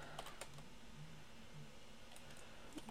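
Keys clack on a computer keyboard as console commands are typed into the game Team Fortress 2, a quick irregular run of close clicks with short pauses.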